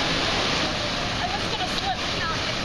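Myra Falls, the upper part of the waterfall, makes a continuous broadband rush of falling water, steady and fairly loud throughout with no clear speech on top.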